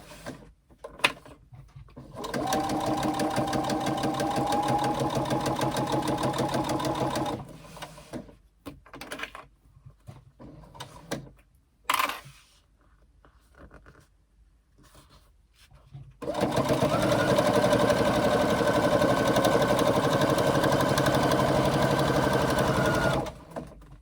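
A sewing machine stitches backpack fabric in two long, steady runs of even mechanical whirring, separated by a quiet pause with a few clicks and handling sounds.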